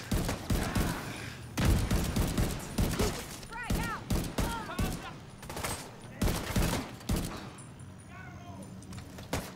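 Sniper rifle and other gunfire in The Division 2, with repeated sharp shots and bursts under German-speaking commentary and game sounds.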